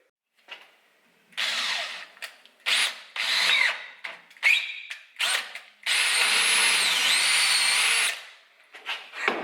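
A power drill drilling metal for a Lambretta scooter packing plate whines in repeated short bursts, then runs steadily for a couple of seconds with a high grinding pitch, close up.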